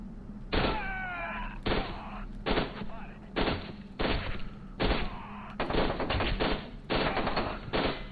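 Short bursts of gunfire from the video game F.E.A.R. 2, about eight sharp, loud bursts spaced roughly a second apart, close and punchy, with game sounds between them.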